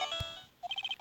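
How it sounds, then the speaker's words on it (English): A phone ringtone from the Phoenix Wright Ace Attorney Trials and Tribulations video game plays as a quick run of short, bright electronic beeps in an even rhythm, preceded by a soft chime and a dull thump. "What kind of ringtone is that?"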